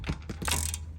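A ratchet works on a 17 mm bolt of the brake caliper bracket on a 2004–2008 Acura TL, giving a few quick close clicks in a brief burst.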